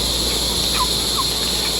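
Two short gobbling calls from turkeys sound at a moderate distance over a steady background hum, with no talking.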